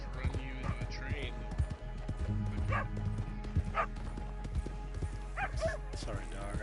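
A dog in the Red Dead Online video game barks in several short yips and woofs over hoofbeats and steady game ambience, with someone talking over much of it.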